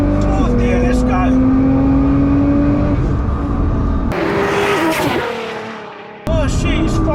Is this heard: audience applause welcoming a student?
no